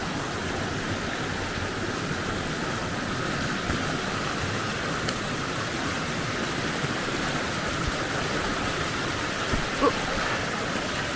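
A mountain river flows on an alpine hiking trail in the Bavarian mountains, producing a steady, broad rushing wash of water at moderate level that holds constant throughout, with no voices.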